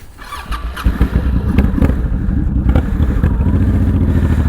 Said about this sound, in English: I love the sound of these Cobra pipes